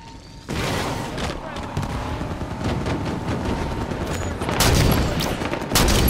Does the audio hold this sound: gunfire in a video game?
yes